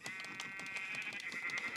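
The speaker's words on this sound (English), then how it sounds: "Oh look, a pink sheep." Pink sheep in the Minecraft video game bleating repeatedly in short, evenly spaced game-sound bursts, fairly loud and clear with no talking over them.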